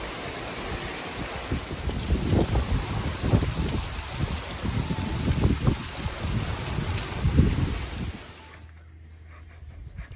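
Summer thunder shower rain falling in a steady broadband hiss with irregular heavier bursts of drops and low rumbling swells, fairly close, before the sound cuts away near the end; no voices.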